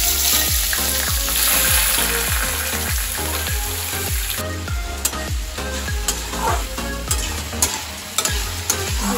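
Panch phoron, dried chilli and bay leaf sizzle in hot oil in a kadai, a loud continuous frying crackle broken by repeated scraping strokes of a spatula stirring the pan.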